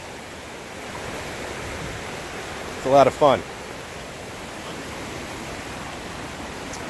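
Creek water near Minnehaha Falls rushes in a steady, broad wash close to the microphone, with wind buffeting and a brief spoken remark partway through.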